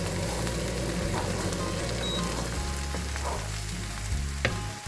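Mushrooms sizzle and fry steadily in a hot pan as they cook down for a chicken and eggplant pie, a constant crackling hiss that is close and fills the whole stretch with no talk.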